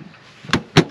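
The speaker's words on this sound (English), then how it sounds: "Doors open nice and clear from the edge of the van." A fridge door on a campervan fitted with a dual-zone fridge-freezer opens close by with two quick thuds of the seal and latch releasing, each a short, sharp knock.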